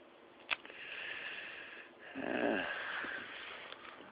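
A dog lying down sniffs in short bursts and snores with a rough, wheezy breath, close by, with a sharp click early on.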